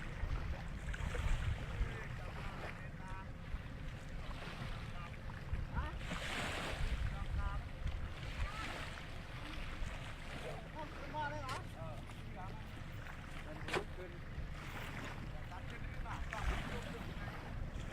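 Boat ride on a river in Shan State, with steady engine and water noise under continuous wind buffeting, loud and close throughout, and voices talking over it.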